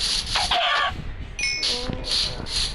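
A Minecraft chicken clucks in repeated short bursts, several close, loud calls in a row with brief gaps between them, standing alone without talk.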